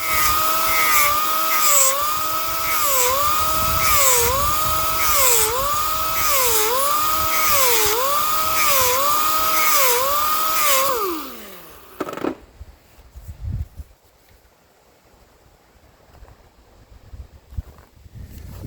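Angle grinding the edge of a custom-made metal panel, a loud whining tool with a rhythmically wavering pitch for about eleven seconds, then spinning down and stopping, followed by quiet handling noises.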